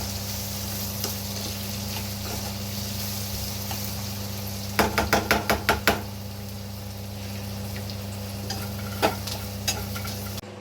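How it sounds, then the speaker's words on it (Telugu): Onions and green chillies fry and hiss steadily in a pan for a home-cooked bottle gourd curry, with a short burst of rapid stirring knocks near the middle and a couple of scattered scrapes later; no talking. "ఉల్లిగడ్డ వేగిపోయినాయి."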